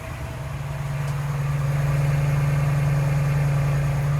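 A 2021 Ford Explorer ST idles with a steady, deep engine and exhaust drone that swells slightly at first and then holds loud and even, with no one talking.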